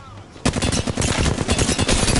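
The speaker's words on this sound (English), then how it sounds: "Listen up, I'm getting shot at." Sustained rapid gunfire aimed at the player in a video game bursts in abruptly after a quiet moment, loud and close, with dense rattling automatic shots continuing steadily to the end.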